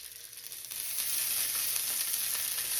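Food sizzles steadily in a hot cast-iron skillet, a loud bright hiss that swells after a moment and holds, with no voices.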